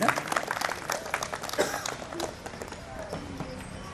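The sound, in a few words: audience applause at Holi ceremony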